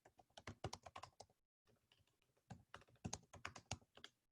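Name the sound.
typing on a computer keyboard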